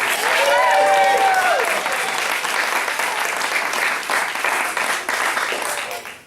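Enthusiastic applause from a crowd at a martial arts belt ceremony for a student, loud and sustained clapping with a brief voice over the start.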